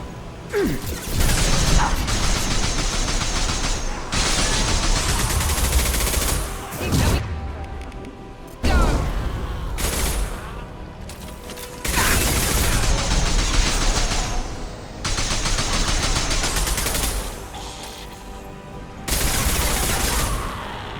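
Sustained bursts of automatic gunfire from the Mass Effect 2 video game on Omega, loud and dense, pausing briefly between volleys with crashing impacts mixed in.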